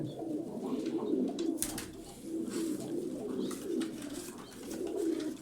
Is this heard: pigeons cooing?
yes